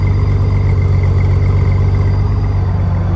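A steady, low engine rumble from a 2012 Honda Goldwing trike with a Vance & Hines exhaust idles continuously, deep and throaty with no pauses, close by and fairly loud.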